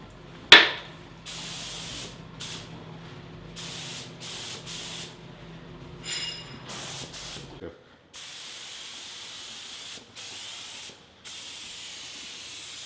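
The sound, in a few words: spray gun misting disinfectant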